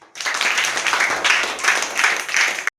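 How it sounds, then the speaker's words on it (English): A class of schoolchildren claps together in a maths lesson, a loud steady patter of many hands in rhythmic surges lasting a few seconds before stopping abruptly. "Very good. Claps."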